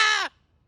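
A pet free-flying parrot lets out a single loud, harsh screech lasting about a quarter second, close by, then falls silent.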